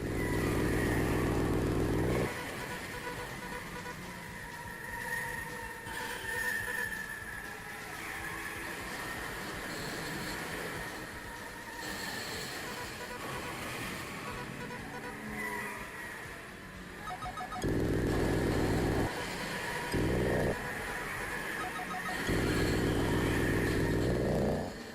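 Engine roars and traffic noise from cars and motorbikes in the retro video game Road Avenger, loud and continuous throughout, with heavier low rumbling bursts at the start and end.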